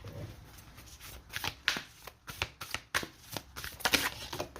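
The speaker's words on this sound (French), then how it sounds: "je vais poser les cartes de la lunologie" Oracle cards for a lunar reading being shuffled close up, a run of quick riffling and slapping bursts in uneven rhythm with no talk.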